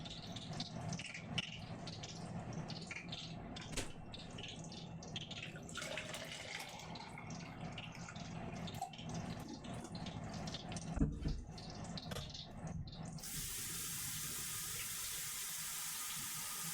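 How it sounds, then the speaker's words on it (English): A kitchen tap runs water into a container during home cooking, a quiet, steady splashing flow with light clinks and rattles, ending in a smoother, continuous rush. "Give myself some more water."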